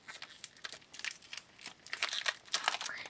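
A small plastic collectible packet is crinkled and torn open by hand, giving close, irregular crackling bursts that grow busier toward the end.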